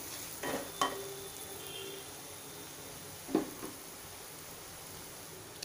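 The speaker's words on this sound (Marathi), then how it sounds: "छान मिक्स करून घ्यायचे टोमॅटो पण।" Tomatoes are stirred into sizzling spiced oil in a pan, giving a steady, soft hiss of frying broken by a few scraping strokes of the spoon, close by and with no talking.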